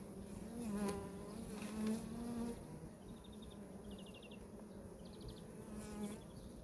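Honey bees buzz continuously around hive frames while a package colony is assembled, a soft, wavering drone of many insects close by, with no talking.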